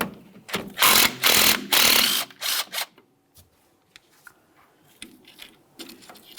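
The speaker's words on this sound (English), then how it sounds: "Remove your 10mm headed bolt." A ratchet working the 10mm bolt on the front strut flex hose bracket of a 2006-2012 Ford Fusion, with loud bursts of clicking and rattling mechanics up close, then quieter scattered clicks and handling noises.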